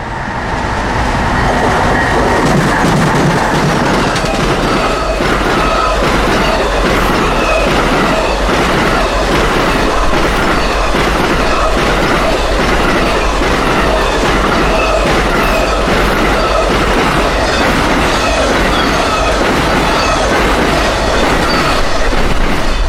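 Amtrak 52, a passenger train on the Florida A Line, rolls past close and loud, with a steady rhythmic clickety-clack of wheels over rail joints and a sustained roar lasting the whole time, no voices.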